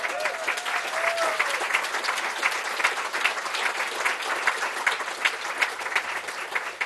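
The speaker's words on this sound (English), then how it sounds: "Emeka deserves a major round of applause." Sustained, dense applause from a crowd at a poetry reading at Malaprops fills the room at steady strength with no pauses, a brief whistle-like tone rising near the start.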